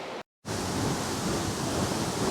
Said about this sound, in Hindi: आवाज़ सुनिए इस वाटरफॉल की.